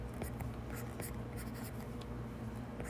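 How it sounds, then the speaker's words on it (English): Pen or marker scratching out a math equation, soft irregular strokes and taps, quiet and close with no talk. "I'm actually going to write it down twice."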